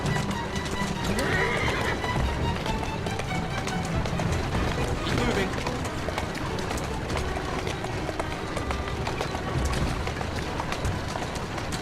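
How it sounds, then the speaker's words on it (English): A horse in Assassin's Creed Syndicate trots with steady clip-clop hooves and lets out loud neighs and whinnies, while someone talks over it throughout. "Who's a good horse?"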